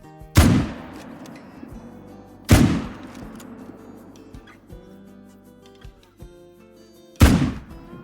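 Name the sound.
hunting rifle shots at whitetail deer, Call of the Wild video game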